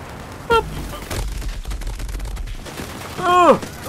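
Gunfire in the video game Borderlands 3, scattered shots and short bursts at moderate loudness mixed with other game effects and sharp electronic chirps.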